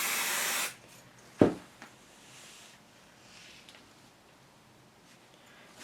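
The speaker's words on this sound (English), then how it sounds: "Now I'm just going to spray my quilted piece" A can of adhesive spray hisses steadily onto a quilt piece for just under a second, then cuts off, followed by a sharp tap and a few faint handling rustles in a quiet room.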